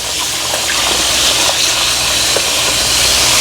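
Water sloshes and gushes around catfish fillets as they are washed, a continuous close splashing and rushing with a few brief louder swishes and no talking.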